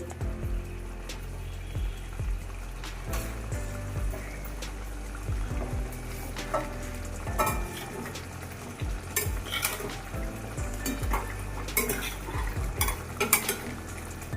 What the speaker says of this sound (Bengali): আমার ভেজে রাখা পটলগুলো দিয়ে আমি একসাথে কষিয়ে নেবো